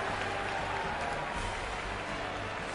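A crowd at a boxing match applauds and cheers the winning fighter, a steady wash of clapping and noise heard from within the arena.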